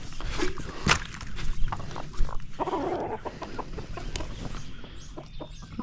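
Chickens cluck and murmur continuously at close range amid rustling and scratching as they eat scraps on a compost pile, a busy, low chatter from several birds.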